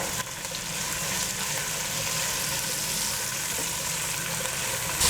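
Sliced large onions with a teaspoon of salt sizzle steadily in a pan, a continuous close frying hiss with faint stirring underneath.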